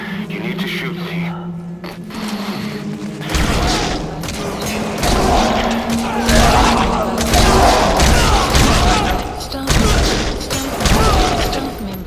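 Gunfire in Metal Gear Solid V: The Phantom Pain, a series of sharp, booming reports scattered through a tense scene, each shot punching out over voices talking throughout.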